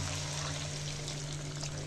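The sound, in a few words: pouring boiling water into the dried fish curry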